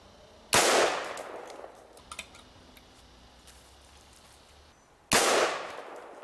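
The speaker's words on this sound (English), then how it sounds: "Several shots from a .22, several shots from a 9mm, and I think what really did it was several shots from a rifle." Two loud, sharp gunshots fired at a lock, from a .22, a 9mm and a rifle, about four seconds apart, each with a ringing decay; faint clicks and handling noises fall in between, with no talk.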